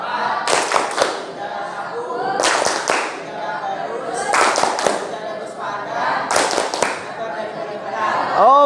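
Students in a classroom perform a rhythmic clapping chant about Muslim attire, bursts of sharp, loud claps recurring in patterned groups between stretches of chatter and voices.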